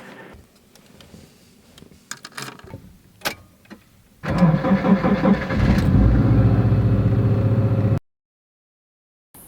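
A car engine in another vehicle cranks and catches, a few clicks and short bursts giving way to a loud, steady running roar that then cuts off abruptly into silence.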